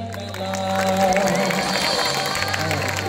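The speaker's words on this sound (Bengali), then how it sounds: "কিন্তু আমরা শুনতে চাই হাততালি" An audience claps and cheers at a live folk music show at Kankalitala, with a steady wash of applause and crowd noise over sustained instrument tones.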